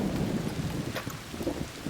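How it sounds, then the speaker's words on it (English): Rain falling in the video game Arc Raiders, a dense steady patter with low rumbling underneath, fairly quiet and continuous, alone without talk. "The rain's a little loud."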